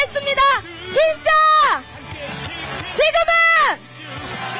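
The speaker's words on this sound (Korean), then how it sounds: "구호 한번 외치겠습니다" A crowd at a Lee Jae-myung campaign rally in Ulsan chants a slogan in unison, loud rhythmic bursts of massed voices rising and falling in repeated phrases, with a lead voice calling it out.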